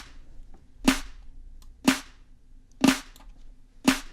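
Four crisp, evenly spaced snare drum hits layered with clap samples, each a sharp bright crack with a short tail, about one second apart with no voices.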